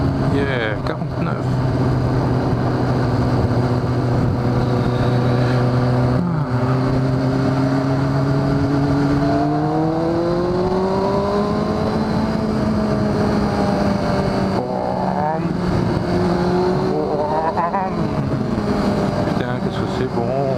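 Kawasaki ZX6R motorcycle ridden with carburetors, a steady loud engine drone rising and falling in pitch with throttle changes, heard continuously against wind noise.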